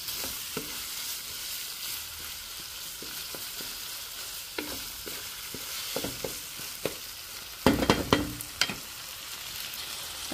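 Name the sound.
spicy bopis frying and being stirred in pan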